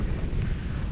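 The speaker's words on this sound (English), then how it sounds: "Oh, it's windy." Strong wind buffets the microphone outdoors on soft sandy ground, a loud continuous rumbling roar that fills the short moment with no voices.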